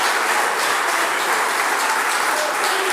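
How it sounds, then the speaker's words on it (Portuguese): A large church congregation claps steadily and loudly, with continuous dense applause filling the room. "vamos dar uma salva de palmas para o Senhor Jesus Cristo"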